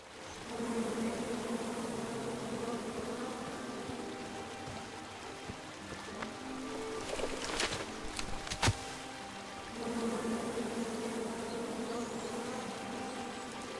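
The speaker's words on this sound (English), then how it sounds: "Come at me, bees!" A swarm of angry bees buzzes steadily in the King's Quest video game, a dense continuous drone that dips briefly midway with a few sharp clicks before swelling back.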